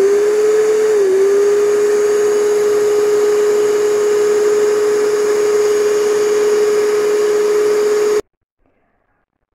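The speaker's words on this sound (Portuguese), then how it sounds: "agora eu vou ligar a batedeira de novo e vou colocando o açúcar também aos poucos" An electric stand mixer beating cake batter, heard as a loud steady motor whine held for about eight seconds, then cut off abruptly into near silence.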